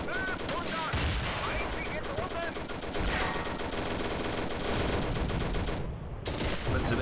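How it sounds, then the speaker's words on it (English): A Pz.38 light tank's machine gun fires in Steel Fury, a World War II tank game set at Kharkov in 1942, in long dense rattling bursts with heavy battle noise and distant booms behind, loud and close. "Use the machine gun to finish them off."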